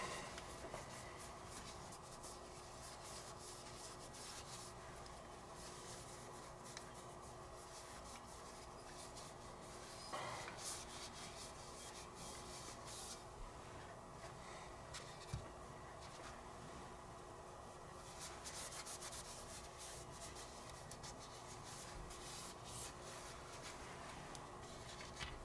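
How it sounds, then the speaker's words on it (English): A felt cloth rubs excess lubricant off a Smith & Wesson M&P Shield Plus 9mm pistol, a faint continuous scrubbing and rustling close by with a few small knocks. "I'm going to remove any excess."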